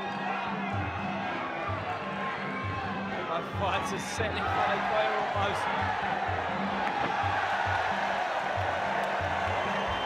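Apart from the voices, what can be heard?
crowd cheering at a Muay Thai fight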